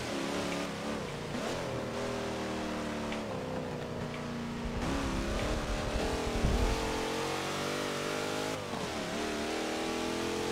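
Race car engine in a racing video game, holding a steady high drone with shifting pitch as it revs and changes gear, one brief lower surge in the middle, continuous and loud with no talk.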